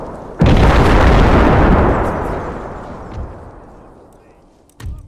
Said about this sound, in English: Here comes the grenades.